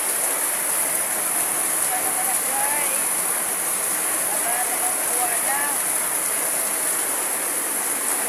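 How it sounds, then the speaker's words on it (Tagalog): Heavy rain pours down steadily in Cabalian as a dense, continuous hiss with no letup, close and loud throughout. "Kusog kaayo ang uwan."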